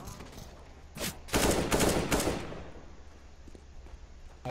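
Bursts of gunfire in Counter-Strike: Global Offensive, a few sharp shots then a dense loud volley of automatic fire that trails off into quieter game ambience.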